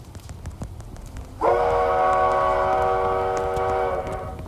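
A train in the video game Dead Rails sounds a loud, steady multi-tone horn that starts abruptly and holds for about two and a half seconds before cutting off, over a low rumbling background.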